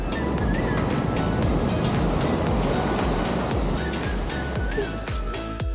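Ocean surf rolls onto a beach in Indonesia in a steady, loud wash of broadband roar with wind buffeting the microphone, a few faint tonal chirps drifting over it.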